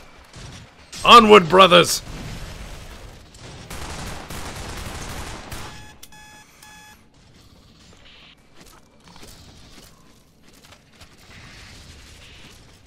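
Gunfire in the space-station game Space Station 13, a loud burst of rapid shots early on followed by scattered rattling bursts and electronic tones, with a voice speaking over it.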